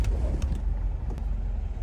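A car pulling out of a parking space, with a steady low engine rumble and road-noise hum close by and no talking.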